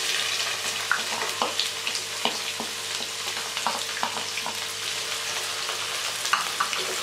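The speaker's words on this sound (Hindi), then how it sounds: "ये प्याज को हम फ्राई कर रहे हैं" Chopped onions sizzle and fry in a pan for a yogurt chicken dish, a constant crackling hiss punctuated by repeated scraping stirs and small pops, with no voices.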